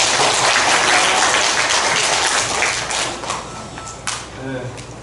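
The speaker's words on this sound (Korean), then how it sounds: "다시 한번 박수 한번 쳐주세요." Audience applause at a national youth speech and oratory contest, a dense wash of clapping that holds steady and then thins out toward the end, with some voices mixed in.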